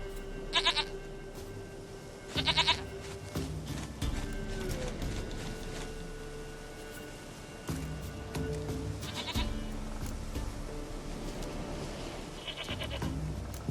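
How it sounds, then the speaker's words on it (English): A goat in The Witcher 3: Wild Hunt bleats four times, short nasal cries spaced a few seconds apart over a quiet game backdrop of low ambient hum and faint footsteps. "Goat of mine, dearest, sweetest goat."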